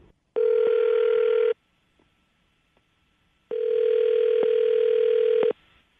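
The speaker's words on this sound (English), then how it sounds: "I'm going to dial his phone number right now" Telephone call ringing through after a number is dialed: two long electronic ringback tones, the first about a second long and the second about two seconds, separated by a silent gap, clean and steady with no voices.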